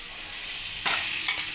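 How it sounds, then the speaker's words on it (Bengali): Small pieces of ginger fry in ghee in a wok with a soft, even sizzle, broken twice by brief bright scrapes of stirring. "আদাটাকে ভালো করে আমি ভেজে নেব, একটু লাল করে"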